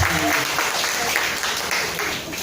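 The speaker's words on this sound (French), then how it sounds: "applaudissez fort" Clapping from a crowd at a retirement celebration, dense and steady applause filling the room, with voices mixed in.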